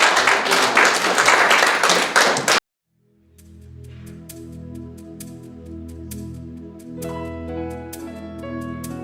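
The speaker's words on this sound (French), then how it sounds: "Est-ce qu'on peut applaudir pour Dieu et donner des cris de joie?" A church congregation claps loudly and densely for a few seconds, then stops abruptly, and soft sustained keyboard chords with light percussion follow at a gentle level.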